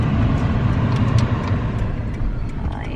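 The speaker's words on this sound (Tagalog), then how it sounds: "It's traffic now here." Steady, loud car traffic rumbling past on a busy road near a new building, a continuous wash of engine and tyre noise with no talk.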